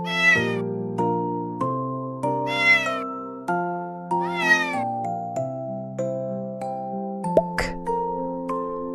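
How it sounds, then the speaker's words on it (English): A cat meows clearly three times, each a drawn-out cry, over a soft, gentle backdrop of sustained melodic chime tones in children's learning content. "Cat."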